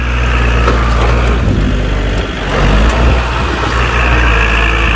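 A farm tractor engine labours under heavy load, trying to pull a stuck dump truck out of mud, with a loud steady low rumble that dips briefly midway and then surges back.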